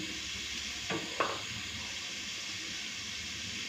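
Cauliflower and potato pieces fry in a pan with a steady, soft sizzle and hiss, joined by a couple of brief stirring scrapes near the start.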